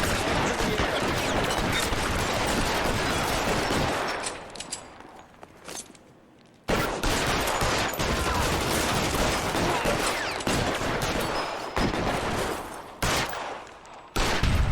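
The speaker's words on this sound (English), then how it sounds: "Ooh, explosions." Dense, continuous gunfire in the video game L.A. Noire, with bursts of automatic fire and explosive blasts, broken by a brief lull before the barrage resumes loudly.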